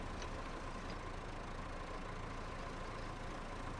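A tractor engine in Farming Simulator 25 runs at a steady, low idle-like drone, continuous and fairly faint with a broad rumbling hum and no voices.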